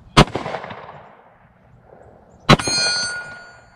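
Two sharp 10mm pistol shots from a Smith & Wesson M&P 10mm at an outdoor range, each followed by a ringing metallic clang of steel plate targets; the second shot's ring sustains with clear tonal overtones, no talk.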